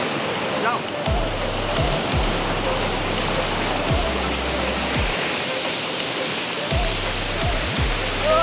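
Rushing stream water on the way to a waterfall makes a loud, steady broadband roar throughout, with occasional low thumps and a voice speaking briefly over it.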